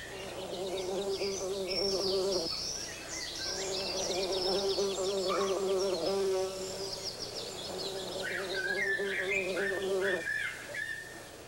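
A bee buzzes near ants in a garden, its drone rising and falling in a few bursts with pitch changes, close and fairly loud, with bird-like chirps mixed in.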